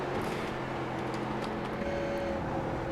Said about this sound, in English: You listen to the engine noise here